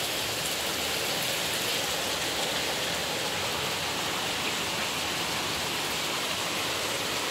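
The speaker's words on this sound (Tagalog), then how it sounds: "Maulan, maulan. Maulan na hapon" Steady afternoon rain pours down in a dense, unbroken hiss, close and constant from start to finish with no voices.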